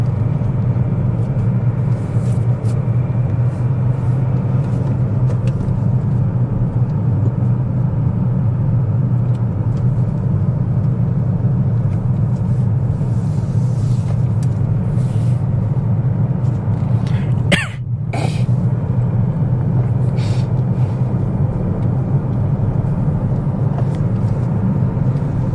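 Car driving through Central London traffic, a steady low road rumble of engine and tyres from inside the vehicle throughout, with a brief sharp transient near the end.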